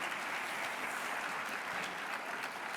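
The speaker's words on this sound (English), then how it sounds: "I know yeah, you can clap." Steady applause from an audience at a political campaign event, a dense wash of clapping holding at an even level for almost three seconds with no voices over it, heard at a moderate distance.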